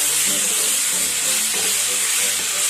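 Cooked beef frying in masala for Kerala-style beef ularthiyathu hisses and sizzles loudly and steadily in the pan, with faint scraping from stirring underneath and no talk.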